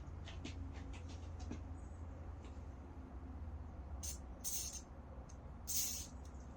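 Several short hissing bursts of a WD-40 aerosol lubricant spray on a breaker bar and wrench sound close up, two longer blasts near the end, over a low steady background rumble.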